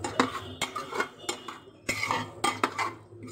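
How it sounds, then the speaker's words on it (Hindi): A metal spoon scrapes and clinks against a pan while roasting masala in an uneven stirring rhythm, close and fairly quiet, with a low background rumble. "उसको बहुत देर तक अभी भूनना है हमें मसाले में।"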